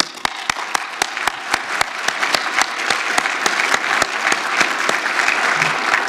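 An audience at a spring address gives a round of applause, with sharp individual claps standing out over a steady, dense patter of hands that continues evenly throughout.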